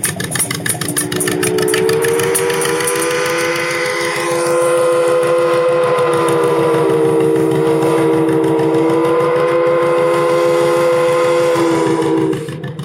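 A Johnny Popper two-cylinder tractor engine runs with a rapid, regular popping beat at a gas and steam tractor expo, while a loud steam whistle sounds over it almost the whole time.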